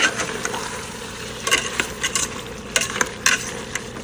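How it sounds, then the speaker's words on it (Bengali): Vegetables sautéed in a hot pan give a close, steady sizzle, with repeated scraping and clattering strokes of a spoon stirring them and no talking. "সবজি কষানো শেষ"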